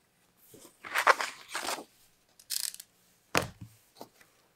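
Scissors snip through a paper holster pattern along its stitch line in several separate bursts of crisp cutting and rustling, close and otherwise quiet.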